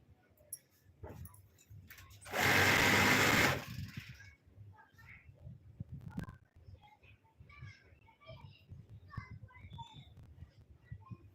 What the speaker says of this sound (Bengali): মেশিনের সেলাইটা খুব ডিস্টার্ব দিচ্ছে